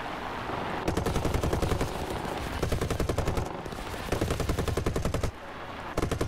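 Rapid bursts of aircraft machine gun fire in War Thunder, repeated in several long, loud volleys with brief pauses between them.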